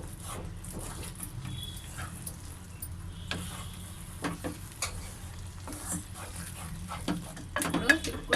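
Chicken with gongura (sorrel leaves) being stirred in a pan, a quiet, steady sizzle with soft scraping and stirring clicks throughout.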